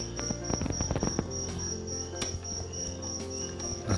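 Crickets kept as feed for a magpie robin chirp in rapid trilling bursts, close and loud, with several overlapping insects and a few handling knocks early on.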